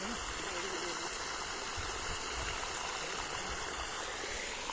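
Water gushes steadily from a 3 HP open-well pump motor on farmland, a loud, constant rushing flow with the motor's hum beneath and people talking over it.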